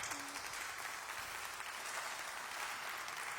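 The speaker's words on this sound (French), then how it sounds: "On vous applaudit chaleureusement." Applause from a conference audience, a steady wash of many hands clapping at moderate loudness throughout, with no speech over it.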